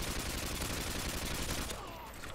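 Rapid automatic gunfire in Call of Duty: Modern Warfare 2 rattles in a dense, continuous burst of shots that cuts off near the end, loud and close.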